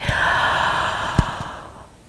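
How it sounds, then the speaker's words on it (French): A long, drawn-out yawn during a yin yoga stretch, arms reaching overhead and legs extended, breathy and close, fading over about two seconds with a brief soft snort partway through. "on vient s'étirer, bailler"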